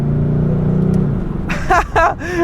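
A Ford Mustang in track mode pulls hard with a loud, close engine roar, then gear changes jolt it, followed by a couple of brief bursts over the engine noise.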